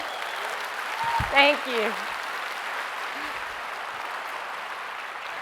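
An audience applauding a speaker at a talk, a steady crowd clapping texture at moderate level that runs under a brief spoken thanks from the speaker.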